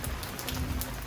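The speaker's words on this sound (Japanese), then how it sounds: "すごい雨やで。" Heavy rain pours steadily onto surfaces outdoors, a dense continuous hiss with close patter of drops and no voices.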